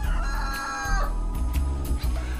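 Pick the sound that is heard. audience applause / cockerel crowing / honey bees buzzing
cockerel crowing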